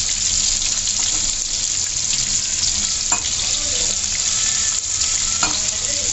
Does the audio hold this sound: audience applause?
no